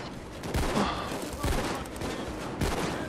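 Dense, continuous gunfire from the video game Payday 2 during a loud heist, a steady roar of rapid shots with a few heavier bursts, close and loud throughout.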